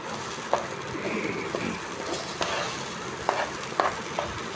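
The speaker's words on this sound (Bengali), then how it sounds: "চাউল ভাজতেছি।" Rice frying in a pan for a fish biryani produces a steady crackling sizzle with occasional scrapes and taps of a stirring spoon, close by and moderately quiet with no speech.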